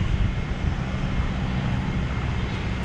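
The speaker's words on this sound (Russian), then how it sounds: "Тут вертолеты и самолеты" Broad, steady engine roar from an aircraft flying near an airport in Vietnam, heard from a rooftop as a continuous wash of noise without talk.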